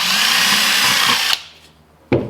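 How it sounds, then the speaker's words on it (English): A power drill whirs steadily at high speed drilling a hole, then stops abruptly; after a short quiet pause it starts again briefly. Loud and close, with no talking. "We'll drill a hole in it in the center-ish."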